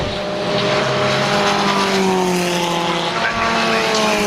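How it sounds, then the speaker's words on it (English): A 1978 Van Diemen Formula Ford race car passes on a circuit at Brands Hatch, a loud steady engine roar with a slowly falling pitch as it sweeps by, filling the whole clip. "Next car through, that's the Van Diemen of Johnny Dimsdale."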